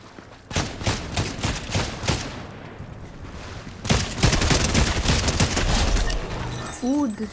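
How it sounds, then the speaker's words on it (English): Submachine gun fire in the video game Fortnite, rapid bursts of close, loud shots that rattle off in a quick stream, with a second denser volley following a brief lull. "The submachine gun."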